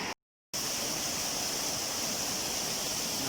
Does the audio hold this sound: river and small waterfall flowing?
yes